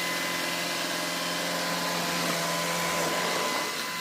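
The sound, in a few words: Shark vacuum cleaner running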